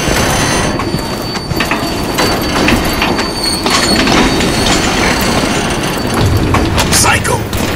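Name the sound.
train in video game Crysis 3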